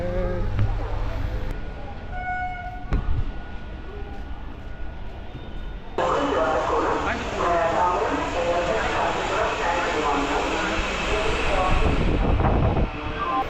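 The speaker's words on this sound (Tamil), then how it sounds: "இந்த ட்ரெயினில் தான் போக போகிறோம் வாங்க" A Chennai suburban commuter train rumbles and rattles at a station, its noise building into a steady roar in the second half; music and a little talk sit underneath.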